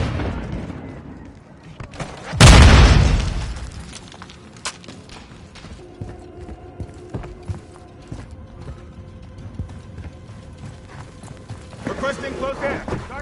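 A grenade explosion in Modern Warfare 3 multiplayer gameplay bursts as one loud, heavy boom early on, followed by fainter thuds, clicks and scattered game noise.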